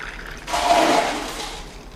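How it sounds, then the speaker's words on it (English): Coffee poured over a cup of ice for an iced black coffee, a steady liquid pour that starts abruptly halfway through and runs on at moderate level with a splashing, trickling texture, no talk. "And now pour my drink over."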